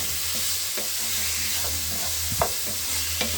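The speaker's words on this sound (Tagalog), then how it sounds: "At ito na yung chicken ang ating hinahalo-halo natin" Chicken sizzles in an oiled pan while it is stirred for pancit miki, with a steady frying hiss broken by occasional scraping strokes of the utensil.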